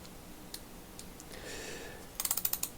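A vintage Snap-On 67-9 half-inch drive ratchet adapter with a coarse 20-tooth mechanism gives a few faint metallic clicks, then a quick close run of about six sharp ratcheting clicks at the end.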